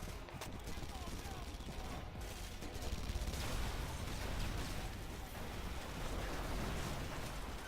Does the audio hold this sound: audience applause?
no